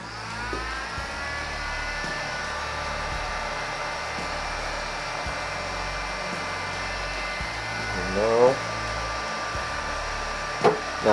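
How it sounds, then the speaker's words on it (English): A loud cooling fan on a 3D printer being converted to RAMPS electronics gives a steady, close, whooshing roar with a faint high whine. A few brief clicks and bumps sit over it near the end. "I gotta warn you, this fan is pretty loud."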